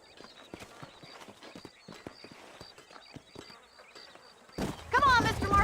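Rhythmic horse hooves clip-clopping at a steady walk in the Western video game Red Dead Redemption, light and fairly close, with insect-like buzzing around them before a voice breaks in near the end.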